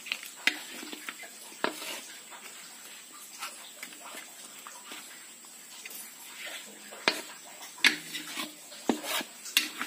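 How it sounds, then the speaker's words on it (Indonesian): Chicken soup being stirred in a cooking pot, with soft scraping and light clinks of a utensil against the pot, intermittent and quiet, alongside faint watery sloshing. "Kita gaul-gaul dia."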